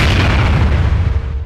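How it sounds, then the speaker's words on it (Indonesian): A deep, rumbling blast stands in as an explosion of light falling from the sky, sustained low boom for about a second and a half, loud and close, slowly fading at the end, with no talk. "Sebuah ledakan cahaya turun dari langit dan menghujani tubuh Sura"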